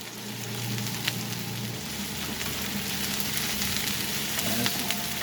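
Chicken for a fajita salad sizzling in a hot pan, a continuous close, bright frying hiss with faint stirring scrapes and occasional pops.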